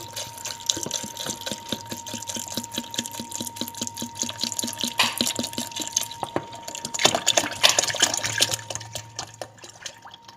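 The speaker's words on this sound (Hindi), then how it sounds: "अब हम इसमें पानी ऐड करेंगे" Water pours steadily into a container of falsa berries for juice, a continuous running, splashing trickle with rapid drips, close and fairly loud, with no talking.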